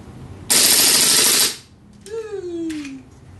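A GSG 92 airsoft pistol fires on full auto and vents its gas in a loud, hissing blast of about one second, followed by a quieter, drawn-out whistling tone that slowly falls.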